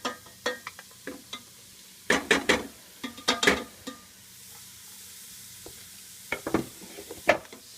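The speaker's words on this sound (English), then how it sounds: "Stir that around." Cauliflower stirred into sautéed leeks and garlic in a pan for risotto, heard as close bursts of spoon scraping and a soft sizzle between quieter gaps, no voices.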